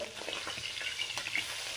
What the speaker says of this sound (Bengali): দ্বিতীয়বারের মাছ এক পিঠ আমার ভাজা হয়ে গেছে, আবার উল্টে দেব, দিয়ে আর এক পিঠ ভেজে নেব